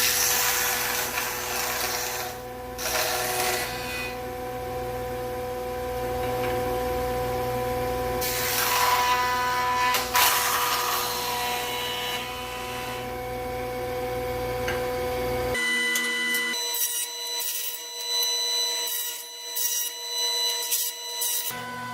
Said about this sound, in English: We're going to do a 2-sided taper. So let's go ahead and turn this thing on